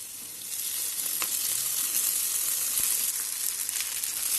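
Onions and soaked sago frying in a pan with turmeric for North Karnataka sabudana breakfast, a steady close hiss of sizzling oil with faint stirring, no talk.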